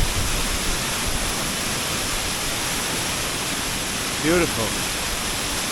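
A waterfall pours off rock on a windy Lake District fell, giving a steady loud broadband roar through the whole stretch; a person briefly speaks near the end.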